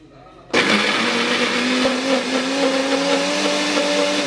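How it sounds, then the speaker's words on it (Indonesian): A kitchen blender grinds chili spice paste for an Indonesian beef stew, starting abruptly with a loud, steady whirring roar that runs unbroken to the end with no one talking. "Setelah bumbu halus, matikan blender."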